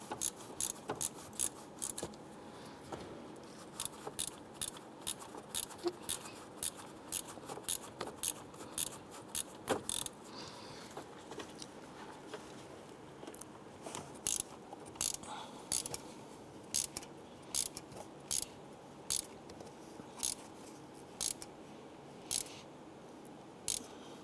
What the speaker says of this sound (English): And then we'll grab our ratchet and we'll snug that down.